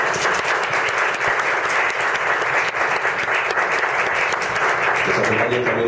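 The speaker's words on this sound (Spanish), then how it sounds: "para quien pido un fuerte aplauso" Sustained, dense applause from an audience honoring a prize-winning author at a literary award ceremony, steady and loud throughout with no break, a crowd of many hands clapping together.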